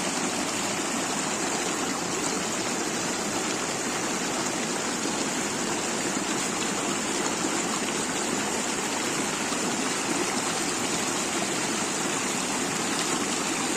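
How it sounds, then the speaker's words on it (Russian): A mountain stream in the Kyrgyz mountains on a hike through the Issyk-Ata area, rushing in a steady, dense wash of flowing water that stays constant and close throughout, with no voices. "Я вижу, как вон там вода течет."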